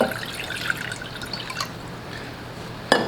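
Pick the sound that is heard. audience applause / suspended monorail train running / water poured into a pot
water poured into a pot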